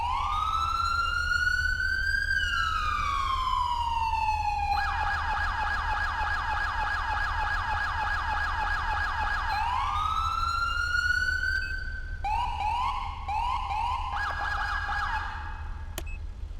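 A police siren in the FiveM game (GTA V roleplay server) blares up close, cycling through a rising wail, a fast yelp and a rapid warbling pattern in clear electronic tones.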